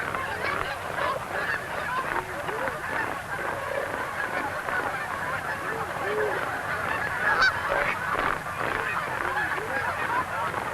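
Flock of geese in the Pacific Northwest honking continuously, many overlapping calls at mid distance forming a busy, restless chorus.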